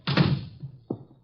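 A door is shut with a dull thunk followed by a softer second knock, close and brief, in a quiet room.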